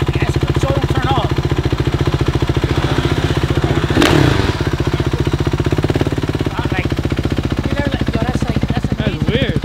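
A dirt bike engine runs in a loud, close, steady rapid throb, with a brief clattering knock near the middle and people talking beneath it.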